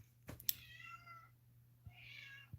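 A cat meows close by, a short drawn-out call followed by a second, quieter meow after a pause, over a low steady hum with faint bumps.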